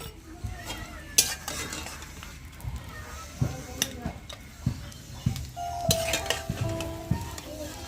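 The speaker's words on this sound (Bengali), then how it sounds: "এই যে আমি ডিম ভাজি ভাগনের জন্য" An egg fries in a pan amid clinking pots, pans and cutlery, with scraping and stirring taps in an irregular rhythm and a soft sizzle underneath, close by in a home kitchen.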